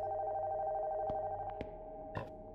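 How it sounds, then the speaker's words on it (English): A telephone rings upstairs in the horror game Nocturnal Visit, a steady electronic ring tone with a few sharp clicks and knocks over it, heard alone with no voices. "The phone from upstairs?"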